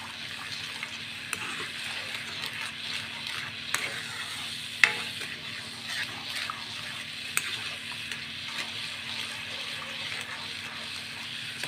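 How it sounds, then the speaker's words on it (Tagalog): Brown sugar being stirred into coconut milk in a pot for biko, a continuous soft scraping and simmering hiss with a few light clicks of the spoon against the pan, close and steady with no talk. "continuous na po yung paghalo."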